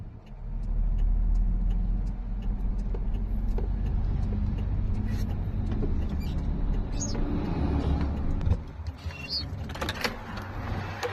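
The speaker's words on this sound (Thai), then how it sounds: "เดี๋ยวมีรถหัวสีแดงมานะ" A red-fronted vehicle rumbles past nearby, a steady low engine drone with creaks and rattles over about eleven seconds, easing off near the end; no talking.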